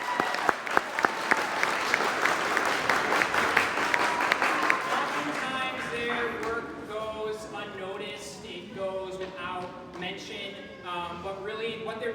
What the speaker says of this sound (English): I just want to give one more round of applause for this amazing set crew